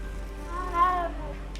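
A single cat meows once in the video game Hogwarts Legacy, a short rising-and-falling call near the middle over a low steady background hum.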